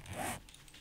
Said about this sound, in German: Mach den Reißverschluss wieder zu.